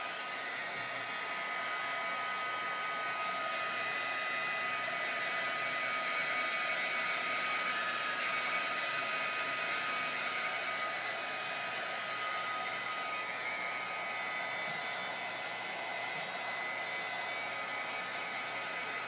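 A heat tool or hair dryer blows steadily over wet Glimmer Mist paint in a craft rusted-metal technique, giving a continuous close whirring rush that holds unbroken throughout.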